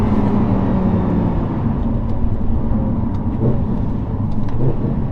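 A supercar's engine drones loudly and steadily on the move, a dense low rumble with road roar filling the whole stretch and no voices over it.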